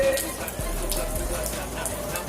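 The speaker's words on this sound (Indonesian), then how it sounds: "Cuma kebetulan kali ini hujan" Steady rain falls outdoors in a continuous close hiss of drops pattering on surfaces, a few low thumps underneath and no clear voices.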